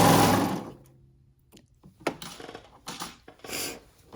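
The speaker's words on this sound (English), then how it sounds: "I rarely lock my serger blade. Rarely when I'm serging like this." A serger sewing machine stitches leggings fabric in a short, close burst of fast whirring, followed by a few quiet clicks and handling knocks as the work is adjusted.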